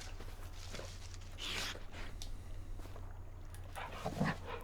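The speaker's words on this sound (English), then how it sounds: "We've got a dog, and there he is way over there." A farm dog named Blaze makes faint, distant dog sounds in an open outdoor setting, with a couple of soft bursts standing out over steady low background noise.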